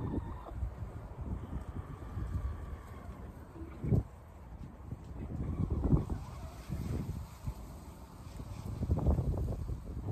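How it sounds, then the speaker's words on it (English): Gusty wind blows across a microphone outdoors in a backyard where a goose and chickens are kept, its low rumbling buffets rising and falling in strong bursts throughout. "I guess I'm gonna go in because it is windy."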